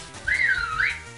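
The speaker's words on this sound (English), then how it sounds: "You just have a phone whistle in there because I got a message." A phone message notification whistle sounds alone, a short rising-and-falling two-part tone lasting about a second, close and fairly loud.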